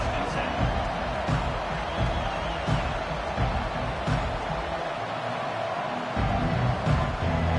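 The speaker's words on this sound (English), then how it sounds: "This crowd bringing the energy and noise early." A packed stadium crowd at an Alabama vs Clemson college football game roars steadily throughout, a dense continuous wall of cheering with a play-by-play commentator's voice running over it.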